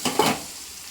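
Hot tempering poured into Tamil paruppu kuzhambu (lentil curry), giving a sharp burst of sizzling that peaks early and fades over the rest of the second, heard alone with no talk.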